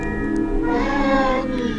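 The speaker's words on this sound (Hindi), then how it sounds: "बिल्ली" A cat meowing in the horror video game The Baby in Yellow: one drawn-out, close, fairly loud meow with a wavering tone, heard alone.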